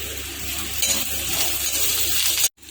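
Curry leaves dropped into dried red chillies frying in oil in a pan for idli karam podi crackle and sizzle steadily up close, then cut off abruptly near the end.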